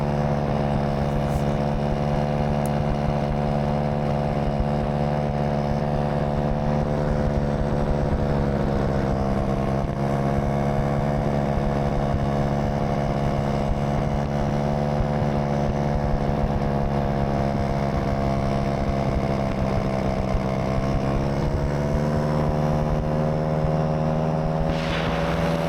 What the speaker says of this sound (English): you'll hear the burbling come back here as I get in that throttle